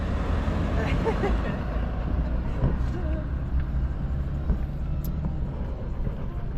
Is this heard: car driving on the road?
yes